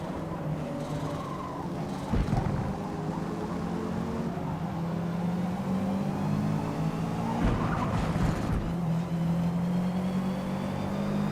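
Subaru in the Forza Motorsport racing game, engine droning steadily with rising and falling revs and brief tire squeals, loud and continuous without pause.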